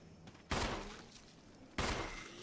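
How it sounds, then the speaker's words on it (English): Two separate handgun shots in Resident Evil HD Remaster, each a sharp loud crack with a short decaying tail, about a second apart, over quiet background. "I'm gonna shoot you because I have bullets to waste."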